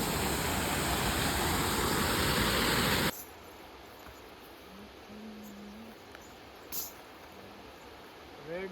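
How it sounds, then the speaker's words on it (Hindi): Water falls with a loud, steady roar beside a Narmada river ghat, then the noise drops sharply to quiet outdoor ambience with faint scattered sounds. "ये देखो, ये जैसे यहाँ पे गिर रहा है पानी"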